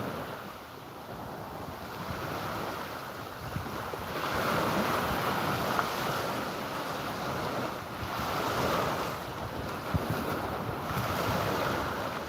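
Waves wash onto a California beach in a continuous roar that swells and recedes in slow surges, mixed with gusting wind buffeting the microphone, with no voices.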